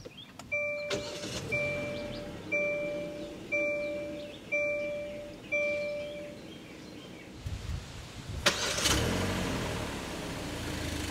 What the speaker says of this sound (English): simply put your foot on the brake and hit the dash mounted button to go